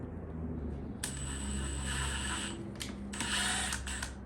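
A screw is worked loose from the rear leather seat of a 1995 Toyota Land Cruiser FZJ80, giving short ratcheting clicks in two brief bursts over a faint steady background hum.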